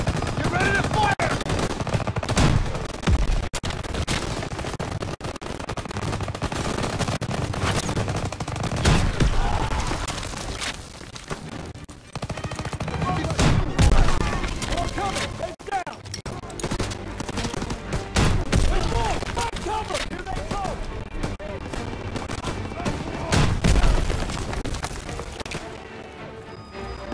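A long World War II battle in Call of Duty: WWII, with dense machine-gun and rifle fire rattling steadily, loud and near, broken by heavier blasts and crashes, while voices shout beneath the shooting.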